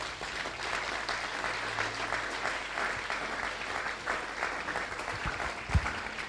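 A church congregation claps together through a worship service, a steady, dense wash of applause that runs continuously at an even level with no break or voices standing out.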